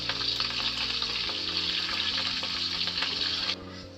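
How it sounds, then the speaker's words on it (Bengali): Onion pieces fry lightly in hot oil, producing a steady, close sizzle with a few stirring scrapes. The frying stays even for most of the clip, then softens slightly near the end. "সেইগুলোকে হালকা ফ্রাই করে তুলে নেব"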